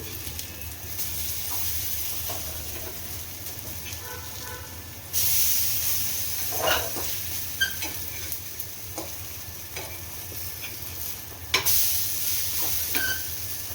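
Kebabs of sprouted whole moong and black chana fry in very little oil, giving a steady sizzling hiss throughout, growing louder partway through, with occasional light taps and scrapes of a spatula against the pan and no talk.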